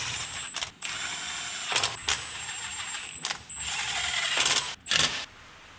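Ratchet snugging down bracket bolts on a Dodge Ram 3.9 or 5.9 engine: rapid clicking bursts in several short runs with brief pauses, close and fairly loud, with no talking.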